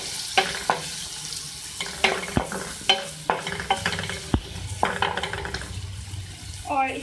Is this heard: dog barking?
no